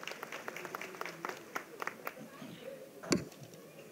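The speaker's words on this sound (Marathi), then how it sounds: "जोरदार टाळ्या" Scattered, light clapping from an audience at a religious samadhi ceremony and award function, irregular claps rising and thinning over a few seconds with one sharp louder knock near the end, fairly faint.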